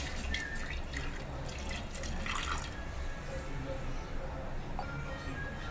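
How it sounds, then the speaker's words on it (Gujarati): Water pours into a pot to start masala tea, a quiet, close trickling and dripping that runs softly throughout, with faint room noise behind it. "સૌ પ્રથમ તો આપણે પાણી નાખીશું"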